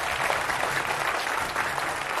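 Audience applause on a Hindi television debate show, welcoming panel guests who are party spokespeople; a steady, dense wash of clapping that holds evenly throughout.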